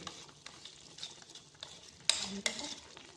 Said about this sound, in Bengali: বাটা মশলা মাংসের সাথে খুব ভালোভাবে মিশিয়ে নিচ্ছি